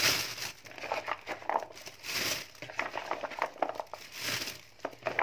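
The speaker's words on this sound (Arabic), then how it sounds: "انا هجيب كيس اهو اللي هو كيس الثلاجة" A plastic freezer bag crinkles and rustles steadily as carrots are dropped into it, with bursts of crackling handling noise close up and no voices.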